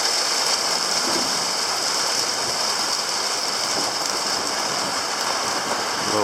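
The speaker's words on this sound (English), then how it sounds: "Oh, we got a little bit of hail coming down." Small hail pellets come down around an off-grid solar house under construction, making a dense, continuous patter and hiss that stays even and fairly loud throughout, with no voices.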